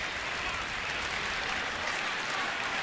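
A baseball crowd claps in a broad, steady wash of applause that stays level throughout, with no distinct voices standing out.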